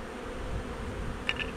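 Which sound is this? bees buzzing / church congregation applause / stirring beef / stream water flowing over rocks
bees buzzing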